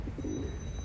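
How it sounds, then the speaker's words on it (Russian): Pigeons coo softly while pecking at scattered grain in an outdoor city spot, a brief low murmuring coo set against steady background hum, with no voices. "Здесь вот голубей не обижают, насыпали им зернышек."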